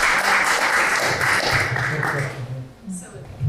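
Audience applause at a public meeting on pedestrian and active transportation design, a burst of clapping that fades out near the end, with a voice speaking afterward.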